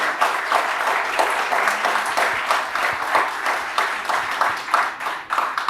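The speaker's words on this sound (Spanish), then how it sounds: "les pido un fuerte aplauso para nuestros invitados de hoy día" A strong round of applause for guests at a university panel event, many hands clapping in a steady wash with individual claps standing out, continuing for several seconds without speech.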